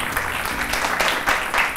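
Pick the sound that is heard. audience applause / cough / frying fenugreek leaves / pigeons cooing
audience applause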